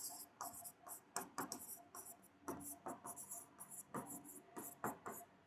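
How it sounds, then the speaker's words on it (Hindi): A marker writes on a classroom whiteboard in quick squeaky strokes, a series of short scratchy bursts in an irregular rhythm, close but quiet, without speech. "आपके पास मैं वैल्यूज लिख देता हूँ व्हाइट बोर्ड पे"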